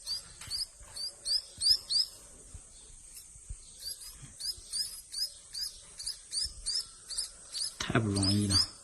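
Java sparrow chicks, rescued and sheltered in hot weather, chirp in rapid high repeated bursts close by, with a louder rustling or handling noise near the end.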